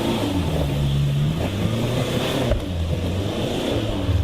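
A Škoda Kodiak 4x4 driving off-road on a muddy trail, its engine droning steadily and loud, with shifting low rumble and a brief change in tone midway.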